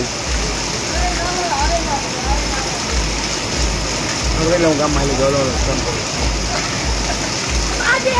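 Steady rushing and splashing water like heavy rain, with a low rhythmic engine-like thrum and scattered voices in the background.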